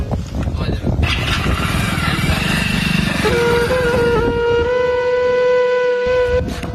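A motorcycle engine runs loudly and revs, its pitch climbing and then holding at a steady drone, while several people talk over it throughout.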